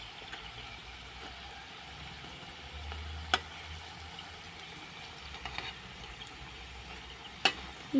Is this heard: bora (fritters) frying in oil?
yes